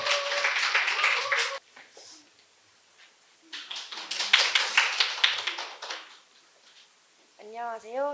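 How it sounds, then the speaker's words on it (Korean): An audience at a 2023 Jeju childcare program presentation claps to welcome a presenter, with a burst of clapping, a short pause, then a second longer round, and a voice starting to speak at the end. "큰 박수로 맞이해 주세요."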